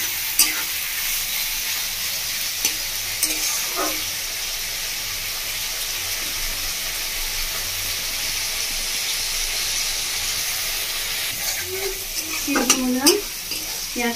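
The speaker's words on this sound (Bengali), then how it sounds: "পেঁয়াজটা ভাজা ভাজা হয়ে যাচ্ছে" Onion, tomato and capsicum frying in a pan for Bengali-style chicken kosha: a steady, close sizzle runs throughout, with occasional stirring scrapes and a few squeaky spatula strokes near the end. No one speaks.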